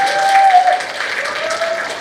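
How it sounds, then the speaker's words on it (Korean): Audience applause fills a room at an academic conference on a historic mountain fortress, a steady broad patter of many hands that holds at a fairly even level for the whole stretch, with a faint tone running underneath. "이분한테 크게 박수 한번 쳐주셔야 돼요"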